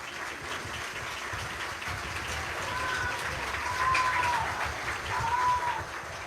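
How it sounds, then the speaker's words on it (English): A high school football stadium crowd claps for an injured player being carried off on a stretcher, a distant, steady wash of applause that swells slightly, with a few faint whistles or calls on top. "now you're going to hear applause."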